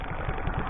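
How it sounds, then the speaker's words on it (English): A 1969 Honda CT90 motorcycle engine idles steadily up close, a low, even putter with a regular pulsing rhythm and no voices. "it's idling a lot better now"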